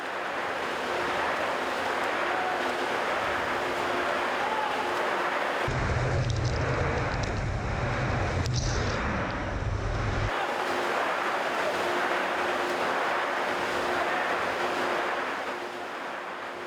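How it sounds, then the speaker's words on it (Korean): Coast guard trainees plunge into rough ocean surf at a training academy, with steady roaring waves and wind buffeting the microphone and a heavier low rumble of crashing water through the middle. "거침없이 파도 속으로 뛰어들었습니다."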